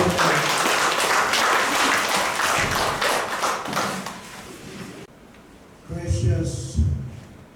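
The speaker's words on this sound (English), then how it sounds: "Round of applause to them," Applause from the audience at a college campus commencement ceremony, a dense, steady roar of clapping for about five seconds before it cuts off and a voice begins speaking.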